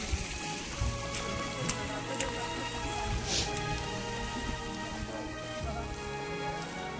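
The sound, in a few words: small waterfall at Sinhagad fort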